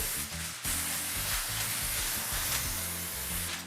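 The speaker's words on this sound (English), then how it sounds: "we're gonna hit our aluminum foil with a little cooking spray." A steady hissing of cooking spray onto aluminum foil runs almost continuously, with one short break near the start, fairly close and moderately loud.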